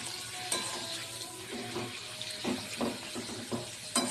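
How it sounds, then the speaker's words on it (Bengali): Papad fries in hot oil with a crackling sizzle and a scattering of sharp pops and bubbling bursts, all close by and without talk. "পাঁপড়গুলো এবার ভেজে নেব"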